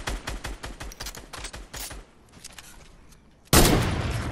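Gunfire and grenade blasts from a Fortnite squads match: a rapid burst of close shots crackles for about two seconds, trails off, then a loud grenade explosion bursts in and rumbles to the end.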